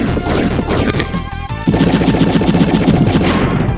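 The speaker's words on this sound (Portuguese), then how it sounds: "A gente dá alguns tiros e dá uma bomba ali pra terminar ele mais rápido." Rapid gunfire and an explosion from a bomb ring out during a boss fight in the video game Wild Guns, a loud dense barrage of retro shots and crashes throughout.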